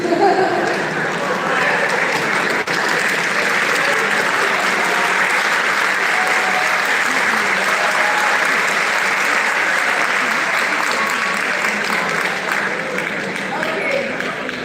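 A summit audience claps continuously and loudly for the full length, a thick, even wash of many hands with faint voices mixed in.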